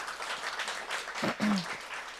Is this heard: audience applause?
yes